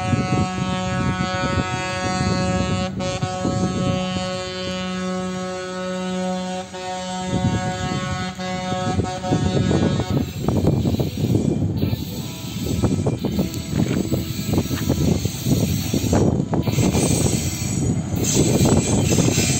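A rail ballast regulator maintenance machine rolls past on the tracks, its long droning horn blaring loudly for several seconds before giving way to rumbling, clattering machinery noise as it goes by.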